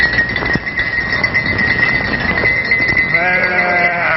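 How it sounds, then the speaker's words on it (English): Sheep bleat in a pasture, a loud close bleat rising near the end over continuous outdoor noise and shuffling, with no talk. "How many sheep do you see in this pasture?"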